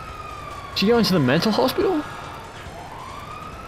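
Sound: ambulance siren in GTA 5 video game

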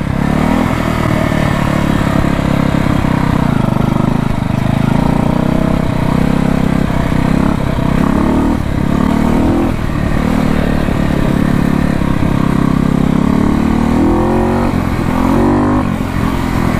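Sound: 1968 Harley Davidson motorcycle engine running

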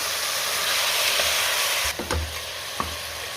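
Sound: mutton frying in oil over high flame

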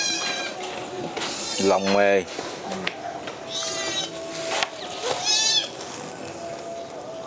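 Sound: cat meowing

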